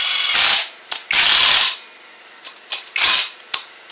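A torque wrench tightens the engine bolts on a 2007 Toyota Camry rebuild in an X-pattern sequence, giving several short, loud bursts of clicking ratchet action separated by pauses.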